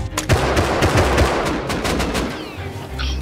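Loud, rapid automatic AK rifle fire in the survival game Rust, a fast string of close, sharp shots with overlapping bursts that taper off near the end.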